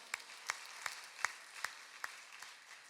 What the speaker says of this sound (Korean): 우리 박수 한번 주시면